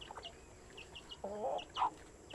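A chicken gives a few soft clucks, faint and close together, over a quiet background.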